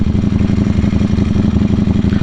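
Ducati Panigale V4 SP2 with a Stage 2 ECU flash, its V4 engine revving loud and close, a steady throbbing roar with rapid pulsing, no voices over it.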